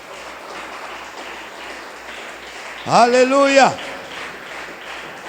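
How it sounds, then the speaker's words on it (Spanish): A church congregation applauds in a steady, noisy wash of clapping through a Spanish-language worship service, while one voice calls out loudly over it partway through. "Denle un aplauso fuerte al Señor."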